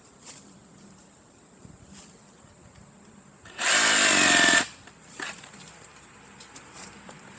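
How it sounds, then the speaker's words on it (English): Ryobi brushless cordless reciprocating saw cutting into an oak tree outdoors, a short, loud, high-pitched whirring burst of about one second standing out against quiet woodland background. "There's a link in the description take you right to this Ryobi brushless cordless that, yes, will cut down an oak tree."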